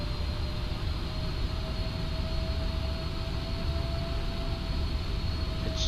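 Steady, dense roar of PMDG 777F cargo jet engines spooling up in a flight simulator game, continuous and loud with a faint tonal whine running throughout.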